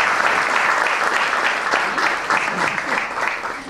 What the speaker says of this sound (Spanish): le damos un aplauso a María José Maito